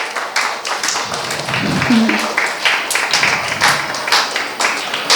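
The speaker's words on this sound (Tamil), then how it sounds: "அவங்களுக்கு ஒரு பெரிய கைத்தட்டல் கொடுக்கணும்" Audience clapping for a dance guru after a Bharatanatyam performance, a steady broadband patter of applause filling the whole stretch, with some voices mixed underneath.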